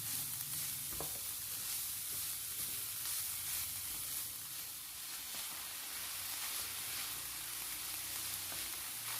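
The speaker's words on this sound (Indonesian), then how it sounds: "Lalu kita aduk sampai bumbu-bumbunya tercampur dengan merata ya." Pepper and salt seasoning stirred in a hot pan while making fillings for vermicelli pastel pastries, a steady close sizzle with occasional soft scraping of the utensil, no voices.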